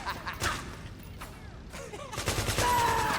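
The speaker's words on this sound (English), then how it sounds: "Now they're all gonna shoot each other." Soldiers exchange gunfire in the video game Metal Gear Solid 4, with scattered shots and a rising burst of rapid firing that grows louder toward the end.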